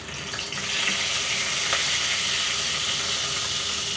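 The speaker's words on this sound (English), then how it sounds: "So I need to fry a bit." Ilish fish fries lightly in a pan with a steady, bright sizzle and crackle, moderately loud and close, with no voices.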